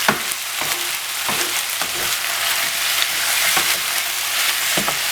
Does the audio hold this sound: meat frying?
yes